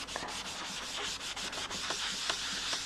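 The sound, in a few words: ink sponge rubbed over the card surface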